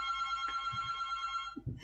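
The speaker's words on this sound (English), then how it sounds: "Yeah, it's my phone, house phone." A house landline telephone rings with a steady electronic tone that holds for over a second, then cuts off as muffled handling noise follows, indoors in a quiet room.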